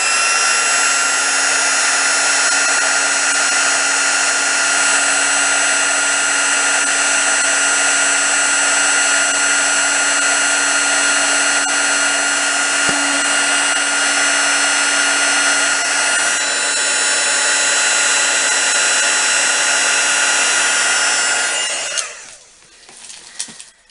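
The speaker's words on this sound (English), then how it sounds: "heat gun on again." A heat gun blows hot air over a craft embellishment with a loud, steady, high-pitched whir and hiss that holds for about twenty seconds before switching off and winding down.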